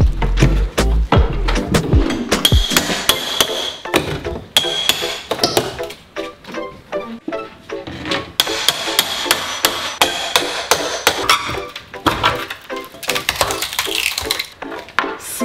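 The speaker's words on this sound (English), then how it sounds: "I moved on to the second doorway and continued removing the trim" Hammer strikes pry stubborn wooden door trim off a doorway, a long series of loud, close knocks and splintering cracks in an irregular rhythm, with no talking.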